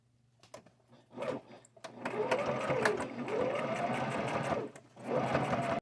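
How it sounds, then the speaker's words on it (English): A domestic sewing machine stitching a zigzag seam down fine mesh on a jean vest, starting with a few short stitch bursts, then running in a steady close whirring hum that pauses briefly and resumes. "My machine is already set on a zigzag, so I think I'll just do a zigzag all the way down"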